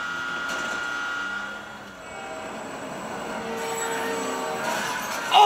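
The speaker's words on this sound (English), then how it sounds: "Beat the train" A train rushes past in the GTA 5 video game, a steady rumbling roar with rail clatter and a brief high squeal near the end, loud and without speech.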